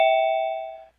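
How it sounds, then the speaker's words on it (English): A doorbell rings once, a clear, loud electronic chime that sustains and fades out within a second, with nothing else around it. "Okay, I hear somebody ringing a doorbell."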